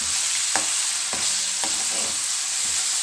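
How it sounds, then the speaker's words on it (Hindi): Raisins frying in oil for Afghani Kabuli pulao, a constant hissing sizzle with four or five distinct scrapes of a spoon at roughly half-second intervals. "इसी तेल में मैं किशमिश फ्राई करेंगे। बस थोड़ा सा किशमिश फूल जाए, उसके बाद मैं निकाल लेंगे।"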